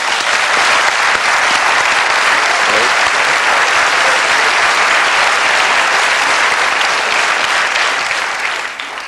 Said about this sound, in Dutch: Dames en heren, uw applaus voor Jacques Vermeire.